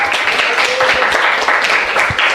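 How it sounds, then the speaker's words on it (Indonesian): A classroom audience claps after a student group's presentation during a teaching practice session, a dense, even burst of applause lasting a couple of seconds with no talk over it. "Tepuk tangan semuanya."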